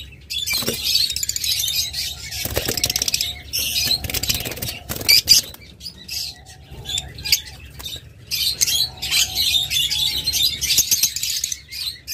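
A pair of blue pigeons flap their wings in bursts and call nearby, amid chirps and squawks from other caged birds.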